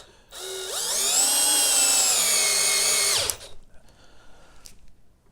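A Milwaukee M12 4-in-1 cordless drill in drill mode at speed 1 spins up with a rising whine, holds a steady high-pitched hum for about three seconds, then winds down.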